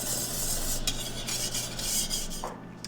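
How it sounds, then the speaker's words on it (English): Hot pomegranate jelly mixture at a rolling boil being whisked steadily in a pot, giving a continuous close scraping, stirring rasp with a faint bubbling sizzle underneath and no talk. "we're going to just whisk it around for 1 straight minute"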